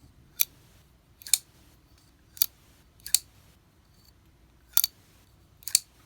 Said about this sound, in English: When you open it with the Axis lock, it just makes a nice tang